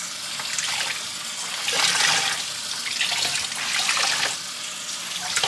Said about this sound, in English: finish rinsing this thing out